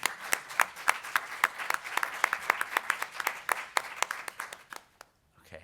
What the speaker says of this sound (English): So please give her a warm round of applause too